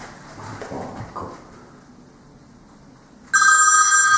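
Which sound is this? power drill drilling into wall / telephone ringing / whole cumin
telephone ringing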